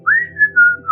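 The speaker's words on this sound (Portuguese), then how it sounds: "O pessoal do Museu Britânico tá assobiando junto ali, né?" A person whistles a short, clear rising and falling phrase of a few notes, close and alone with no talk.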